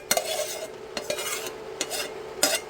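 Cooked rice stirred into a sauce with peppers in a hot pan, a few distinct scraping strokes of a utensil against the pan over a faint background sizzle.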